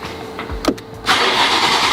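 A wrecked BMW X3 M being rebuilt cranks briefly with a starter whine, then catches and settles into a loud, steady running roar, close by with no talking.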